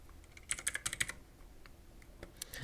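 Someone types on a computer keyboard during a PC settings fix, a quick close burst of about a dozen light key clicks followed by a few scattered taps.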